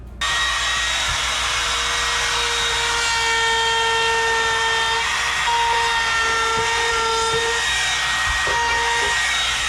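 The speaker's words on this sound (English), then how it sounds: "holding that router onto our finished end panel" A router trimming laminate along a finished cabinet end panel, giving a loud, steady high-pitched whine that runs throughout with slight shifts in pitch.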